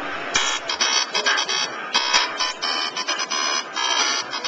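Electronic drum samples triggered live from a Roland SPD-SX sampler pad, heard as a dense run of bright, rhythmic bursts and sustained tones that repeat in quick succession at a steady, loud level.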